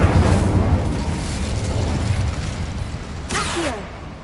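A fire spell cast in Hogwarts Legacy: a steady roaring, crackling rush of flame with a muffled boom near the start, sustained throughout, and a brief bright whoosh toward the end.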